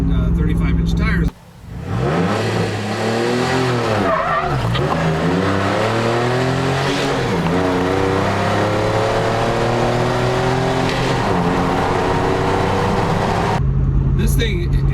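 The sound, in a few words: Jeep Rubicon 392 engine and exhaust accelerating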